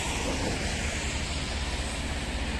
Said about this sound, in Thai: ตัวนี้เป็นรถไถสี่สูบนะครับ สองเพาโฟวินขับเคลื่อนสี่ล้อนะครับ เสียงท้ายเงียบมากๆนะครับ เสียงเครื่องแน่นๆนะครับ